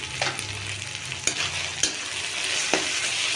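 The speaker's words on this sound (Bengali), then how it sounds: "সব কিছু উপকরণ দিয়ে এবার আমি ভালো করে এটা নাড়াচাড়া করলাম, যাতে সব মশলাগুলো পুরোটা সবের সাথে মিশে যায়।" Tomatoes, salt, turmeric and chili powder for chana masala are stirred in a pan, giving a soft, steady frying sizzle punctuated by a few sharp scrapes and taps of the spoon, close and fairly quiet.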